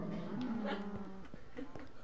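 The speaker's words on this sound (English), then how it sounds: "Oh, my little cows." Cows mooing in the video game Minecraft on PS4, a short low lowing moo followed by softer broken animal sounds, fairly quiet and close, with faint voice-like noise beneath.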